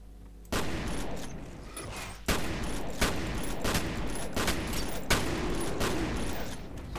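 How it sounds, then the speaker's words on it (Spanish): Gunfire in the FEAR first-person shooter game: a series of sharp, loud bursts and volleys cracking out at irregular intervals over a dense, continuous background of combat noise, with no voices. "solamente hacen falta meterle mm, cuatro disparos en el pecho"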